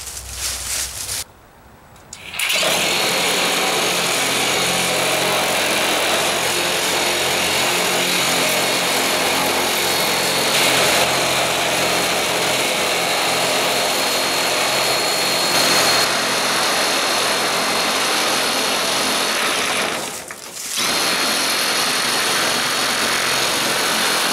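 Milwaukee M18 2635 cordless metal cutting shears cutting 18-gauge sheet metal, a loud, steady motor whine with a continuous cutting rasp over about twenty seconds, stopping briefly at the start and again near the end, no talk.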